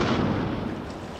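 A single deep, booming cannon blast fired as a farewell salute, with a rumbling tail that fades over a second, sounding distant.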